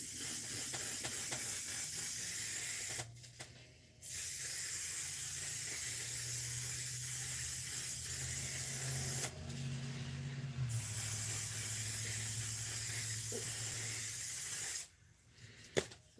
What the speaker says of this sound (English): going in with my one size spray to make it last all day